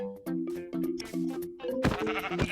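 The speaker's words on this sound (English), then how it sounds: "So I'm just gonna kill a bunch of sheep for the food" Sheep in the Minecraft video game bleat several times in quick succession on a superflat world, loud and close with a steady stuttering cadence. A burst of noisier hits follows near the end.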